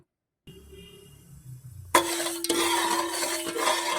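A spoon stirs sugar syrup with cardamom in a pot, quiet scraping at first, then louder continuous clattering and swishing against the pot close by.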